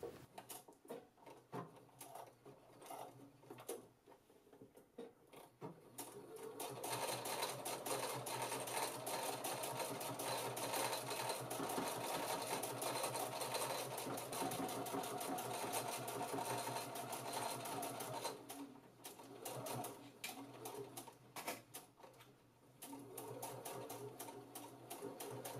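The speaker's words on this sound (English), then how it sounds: "I'm starting at one end of the strip and stitching the entire length going over the pleats." A sewing machine runs steadily, stitching along the full length of a pleated single-layer fabric mask strip; a softer start gives way to a loud continuous whir that holds, pauses briefly, then resumes.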